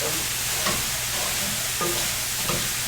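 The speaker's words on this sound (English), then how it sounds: "I see it sizzling a little more now." Steady frying sizzle from a pan, with a few soft clinks and stirring scrapes over the constant hiss.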